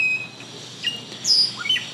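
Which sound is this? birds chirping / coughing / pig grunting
birds chirping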